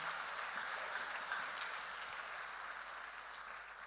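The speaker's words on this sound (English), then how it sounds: "give him a hand clap of prayer" A church congregation in a chapel gives a hand clap, a faint, distant, steady patter of applause that continues evenly throughout.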